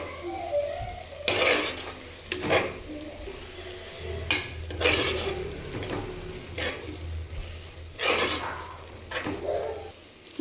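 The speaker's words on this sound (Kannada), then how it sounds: "ಈಗ ಇದರಲ್ಲಿ ಹಸಿ ಸ್ಮೆಲ್ಲೆಲ್ಲ ಹೋಗಿ ಅಲ್ಲಿವರೆಗೂ ಚೆನ್ನಾಗಿ ತಿರುಗಿಸ್ಕೊತೀನಿ" Spice masala for a spinach and sabbakki greens rice bath frying in a pan while being stirred, with repeated scraping clatters of a spoon against metal every second or two over a low steady sizzle, close and moderately loud.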